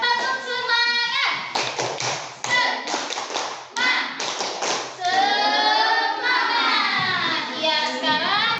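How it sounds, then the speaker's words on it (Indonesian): A class of schoolchildren performs a rhythmic 'tepuk semangat' clapping chant in a classroom, with loud patterned bursts of hand claps and taps mixed with the children's chanting voices throughout. "Kita tepuk semangat dulu ya. Tepuk semangat."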